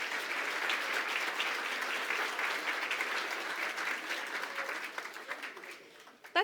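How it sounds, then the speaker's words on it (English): Audience applause at the Greater West Bloomfield, Michigan community awards breakfast, steady clapping from a sizable crowd in a room, easing off toward the end with a final thump. "Let's have one more round of applause for the Greater West Bloomfield, Michigan treasures."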